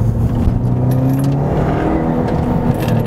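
A Subaru GT 2000 car engine runs with a loud, close, steady rumbling drone that holds evenly for a few seconds with no talking.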